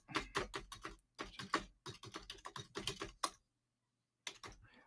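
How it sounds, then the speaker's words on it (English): Rapid clicking keystrokes on a computer keyboard, typed in quick bursts with a pause of near silence before a final short burst, close and fairly quiet. "Let me type it in."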